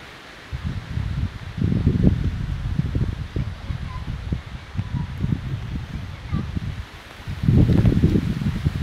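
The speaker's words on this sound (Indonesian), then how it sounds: "Anginnya sangat kencang sekali" Strong, gusting wind on Samosir in bad weather, blowing in loud rumbling bursts across the microphone with rustling, strongest around the second and eighth seconds.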